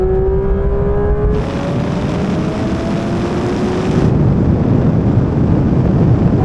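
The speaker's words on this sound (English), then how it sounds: "Now we're going to do a rolling race, once again over the half mile, but this time from 60 miles an hour in third gear." Porsche GT3 RS, GT3, GT4 RS and GT4 accelerate flat out together in a half-mile rolling drag race from 60 mph in third gear, a loud, dense engine roar with rising pitch and a shift partway.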